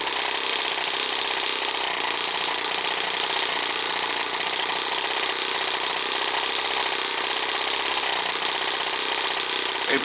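A small Microcosm Eachine M18 model engine runs continuously, giving a loud, buzzing, rapid-fire clatter at a steady pace throughout.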